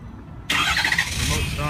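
A 2012 Ford F350 FX4 turbo diesel pickup starts by remote start, going from near quiet to a sudden close, loud diesel crank and catch that settles into a steady rumbling idle.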